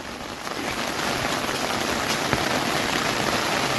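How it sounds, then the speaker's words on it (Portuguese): Heavy downpour in the Caatinga, a loud, unbroken roar of rain drumming close by, steady throughout the short stretch with no talking. "Muita chuva nesse exato momento aqui"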